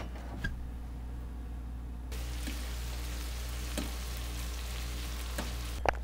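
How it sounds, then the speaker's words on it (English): Shrimp, prawns and scallops frying in a pan, a steady dense sizzle that grows louder partway through, with occasional pops and clicks, close and continuous with no talk. "we have the shrimp and the prawns and the scallops all in the pan, and we're going to fry those up really quick."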